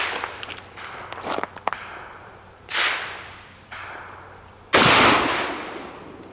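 An antique Colt 1860 Army cap-and-ball revolver fires on CCI number 11 percussion caps. Several sharp cracks and bursts ring out outdoors, ending with one loud report that decays into a long echoing wash.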